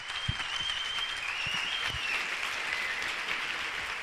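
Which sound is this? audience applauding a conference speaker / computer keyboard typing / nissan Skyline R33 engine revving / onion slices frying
audience applauding a conference speaker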